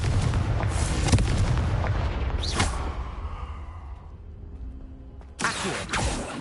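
A Confringo fire spell from Hogwarts Legacy bursts with a loud, booming blast, then a second sharp burst follows a few seconds later, set against a dense rumbling game background.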